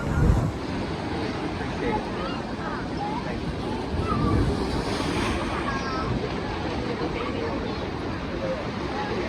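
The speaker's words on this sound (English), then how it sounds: "It's a place where the waves crash through and it makes a boom like thunder." Constant roar of surf and wind at Thunder Hole, Acadia National Park, with waves surging through a rock inlet and crashing in a loud, rumbling wash; faint voices mixed into the noise.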